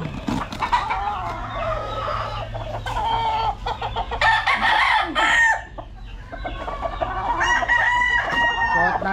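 A gamecock stag crows several times, loud and close, among clucking fowl on a farm, with a low steady hum underneath.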